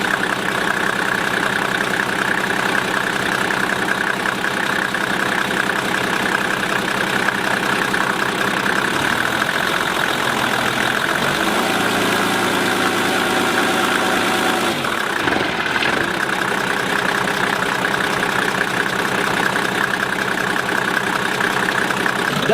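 A Mercedes-Benz W124 with a 3-liter engine idles steadily and up close for over twenty seconds, a constant low hum with faint vibration, briefly shifting in tone midway before settling back.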